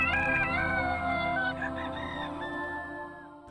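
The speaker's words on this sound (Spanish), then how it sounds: "El gallo cantor y yo." A rooster crowing nearby, one long drawn-out crow that fades at the end, heard on its own.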